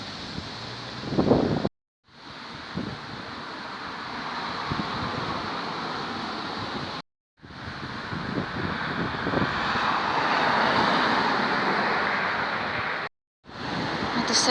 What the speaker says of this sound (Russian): посмотрите, какой сильный ветер